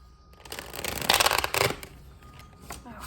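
Tarot cards being shuffled by hand nearby, a soft rustling flutter that swells and fades over a couple of seconds.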